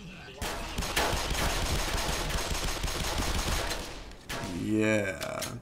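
Gunfire in the first-person shooter Black Mesa: a loud, dense stretch of rapid shots, a brief pause, then another close burst of fire.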